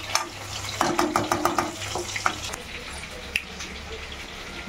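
Fried rice with soy sauce being stirred in a pan, with a spoon scraping and clinking repeatedly against the metal over a steady low sizzle, while a voice talks over the cooking.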